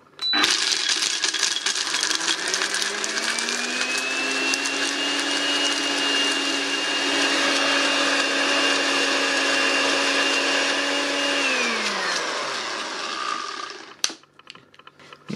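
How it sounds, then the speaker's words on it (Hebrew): A blender grinds almonds with spring water in a kitchen, its motor whining loud and close, ramping up in pitch, holding steady for about ten seconds, then winding down and stopping with a clunk. "נכניס אותם לבלנדר."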